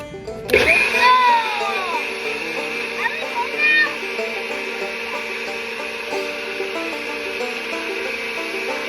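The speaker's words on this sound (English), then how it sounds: "The blender. I'm gonna put this on." A kitchen blender mixing a protein shake switches on and runs with a steady whirring drone, while a voice chatters over the start.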